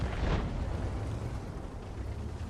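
Artillery shells burst in a tank video game, a heavy rumbling boom at the start followed by a long, dense roar that fades out slowly.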